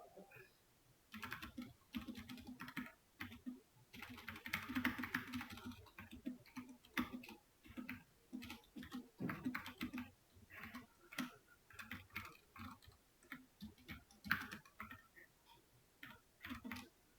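Rapid, uneven keystrokes on a computer keyboard while C code is typed, continuous clicking and tapping up close, with a voice talking faintly now and then.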